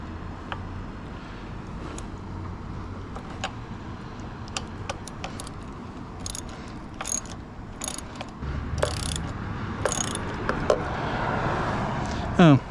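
Ratchet wrench loosening the bolts on the handlebar risers of a Honda Rebel 1100 motorcycle, with bursts of rapid clicking separated by pauses, close and moderately loud over a steady low background.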